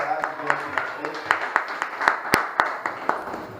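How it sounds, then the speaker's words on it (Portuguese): Church congregation clapping in a loose, fairly even rhythm of distinct claps, close and moderately loud, with voices talking underneath throughout. "Vamos aplaudir aos irmãos aí que tiveram coragem de vir aqui na frente."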